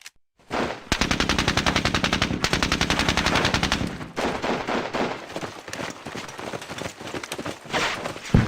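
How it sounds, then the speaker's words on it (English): Gunfire in Squad Battles Eagles Strike: a long, steady, rapid machine-gun burst, loud and close, followed by irregular shots and smaller bursts. "And hence there is deviation with them shooting at us."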